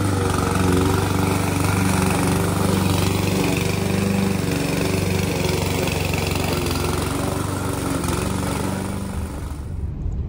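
A lawn mower engine drones steadily and loudly nearby while cutting grass, holding an even pitch throughout before easing slightly at the end.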